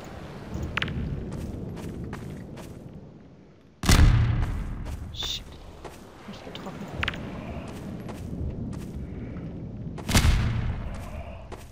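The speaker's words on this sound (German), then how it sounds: "Ich probiere es mal mit Granate." Grenade explosions in the video game Half-Life 2, two loud sudden booms several seconds apart over a rumbling game soundscape with scattered sharp hits.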